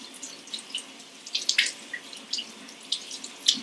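Tap water running through zucchini in a sink to rinse them, a steady faint trickle with irregular splashes and drips, close by, with no talking.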